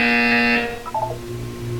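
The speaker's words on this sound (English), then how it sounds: "When you hear the buzzer, look up at the ceiling." A loud, steady electronic buzzer sounds in the video game Portal 2 for under a second, then cuts off, leaving faint background hum and a few soft blips.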